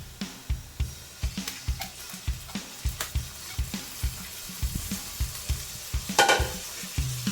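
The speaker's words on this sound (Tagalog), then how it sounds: "Tsaka natin nalagay ang ating manok." Chicken sizzles and fries in a pan with garlic, with repeated stirring scrapes and clinks in a steady rhythm over the constant crackle of hot oil, close and clear, with no talk.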